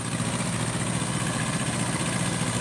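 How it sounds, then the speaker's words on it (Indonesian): A Kubota tractor engine idling with a steady, dense mechanical rumble that holds constant throughout, close and fairly loud, with no voices. "Nama nih traktor nih kan Kobuta."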